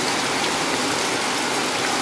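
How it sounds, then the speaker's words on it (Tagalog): Heavy rain pours down in a dense, loud, steady hiss with no breaks and no talk. "Lakas talaga ng ulan guys."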